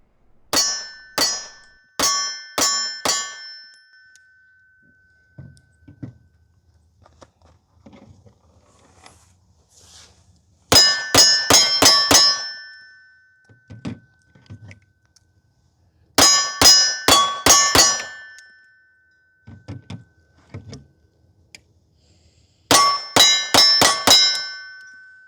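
Comped 2011 pistols fire in quick strings, each shot followed by a sharp metallic ring off steel targets, four separate volleys of about five to six hits with quiet gaps between, loud and distinct.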